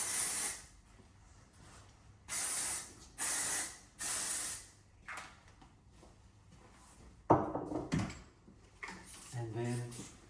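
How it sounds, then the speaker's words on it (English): Several short hissing bursts of dry shampoo aerosol sprayed at the hair roots come in quick succession, close up, followed by rustling and a few brief mechanical clicks. "spray it in at the roots."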